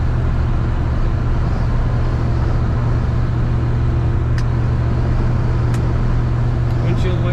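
A 1974 Ford F100 Ranger Stepside pickup truck engine drones steadily and loudly while accelerating, a constant low rumble with road noise and a few faint clicks near the end.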